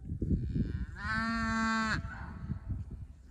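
A calf in a frozen winter cattle pasture gives one loud, drawn-out moo lasting about a second, close by, with a soft rustling and shuffling before and after it.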